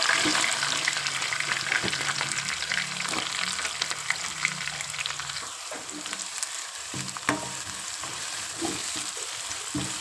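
Onions and green chillies fry in a pan for an eggplant curry, giving a continuous crackling sizzle broken by occasional stirring taps and scrapes over about ten seconds.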